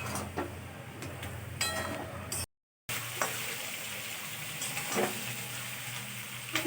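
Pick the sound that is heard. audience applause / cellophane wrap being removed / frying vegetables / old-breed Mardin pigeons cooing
frying vegetables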